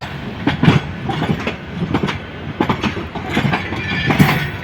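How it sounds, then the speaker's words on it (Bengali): The Brahmaputra Express rolling at Kamalapur railway station, with a steady clickety-clack of wheels over rail joints and rhythmic thumps of passing cars, close and fairly loud. "এটা ব্রহ্মপুত্র এক্সপ্রেস এই ট্রেনটি এখন যাত্রা শুরু করবে"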